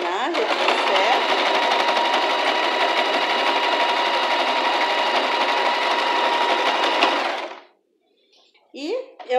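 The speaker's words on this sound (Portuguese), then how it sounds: "Na máquina de costura, ó." A sewing machine zigzag-stitches a fabric face mask with a loud, steady high-speed whirr for about seven seconds, then stops abruptly, followed by brief handling sounds.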